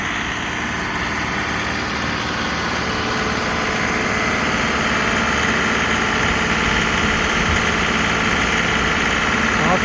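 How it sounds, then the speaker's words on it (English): A small tractor engine runs steadily close by, a continuous rough, rumbling drone with no pauses. "She does so good on this little tractor."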